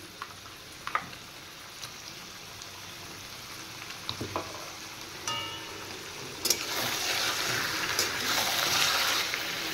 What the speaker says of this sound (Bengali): এবার আমি চিকেনগুলো দিয়ে দিচ্ছি। এবার দিয়ে দেব পেস্ট করে রাখা আদা রসুন, আর তার সাথে কয়েকটা কাঁচা লঙ্কা দিয়েছি।